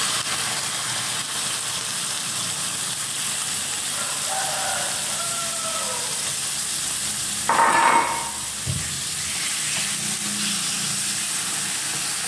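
Pork liver sizzles in a moderate amount of cooking oil in a pan, giving a steady soft hiss with one brief louder crackling burst partway through.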